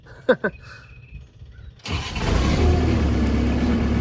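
A skid steer engine, just fitted with a new starter, cranks and fires up after a few quiet seconds of chirping birds and light clicks, then settles into a loud, steady, rumbling idle close by.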